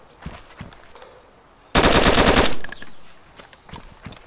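A long, loud burst of automatic machine gun fire in DayZ rattles for under a second, set against quiet game ambience with scattered faint shots.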